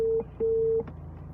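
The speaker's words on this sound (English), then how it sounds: "you can hear EBO's number is ringing" Telephone ringback tone on an outgoing call, two steady electronic tone pulses, one short and one longer, heard clearly against a quiet line with faint background murmur.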